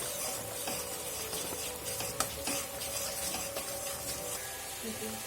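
Vegetables for shukto are stirred in a pan, giving a continuous frying sizzle with intermittent scraping and light clinks of a spoon against the pan, close and fairly even throughout; no talking.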